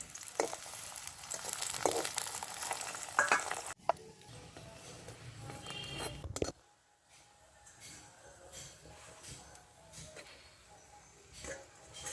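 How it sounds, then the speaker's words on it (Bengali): Carrot paratha fries in white oil in a kadai, giving a steady sizzle for several seconds that cuts off abruptly and then drops to a quiet, faint background. "এবার আমি ভেজে নেব"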